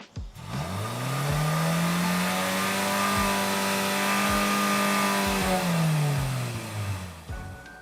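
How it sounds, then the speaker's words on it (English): A 2023 Lexus RX 350 SUV, standing still, revs its engine from a rumble to a sustained high exhaust roar, holds steady for several seconds, then drops back down, loud and close, heard outside the vehicle with no talking. "I wanted to hear what the exhaust sounds like outside the vehicle by us revving it"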